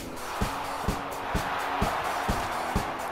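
An arena crowd roars in a wrestling video game, a steady murmur broken by a regular series of dull thuds at roughly half-second intervals, with no talking over it.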